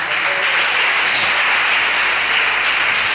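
A church congregation applauding, steady dense clapping from many hands that fills the whole stretch, loud and continuous.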